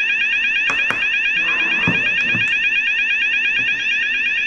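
A Luminite ALERTEX wireless lockdown alarm sounder, set to its lowest level, blares a continuous harsh pulsing electronic tone indoors, with a few faint knocks and clicks underneath.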